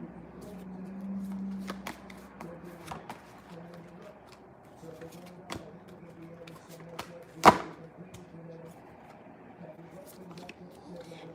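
Tarot cards being shuffled during a live reading: soft repeated riffles and taps with a few sharp snaps over several seconds, set against a faint steady hum, with one louder slap partway through.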